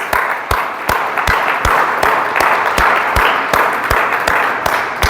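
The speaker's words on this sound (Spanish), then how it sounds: "Dale un fuerte aplauso al Señor," Loud, rhythmic clapping from a church congregation beats in a steady pulse, with sharp evenly spaced claps over a continuous wash of sound, like clapping in time during worship.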